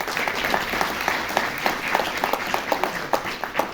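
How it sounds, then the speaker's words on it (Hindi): A crowd claps at a book release function, the clapping moderately loud and slightly uneven, with individual sharp claps standing out from the steady patter. "बुक रिलीज के लिए पहले एक दफा तालियां बजाइए"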